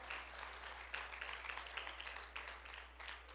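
A church congregation applauds in worship, a soft but steady wash of clapping with a low constant hum underneath.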